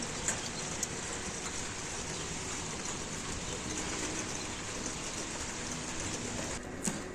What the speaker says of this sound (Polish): Mm, w końcu troszkę pada.